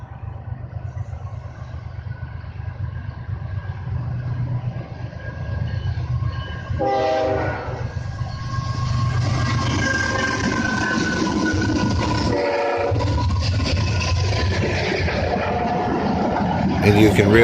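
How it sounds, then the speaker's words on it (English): An old gray KCS locomotive rumbles past in snow, its engine drone steady and loud, with two horn blasts sounding along the way and wind noise over the recording. "how much the train is throwing up the snow down by its wheels"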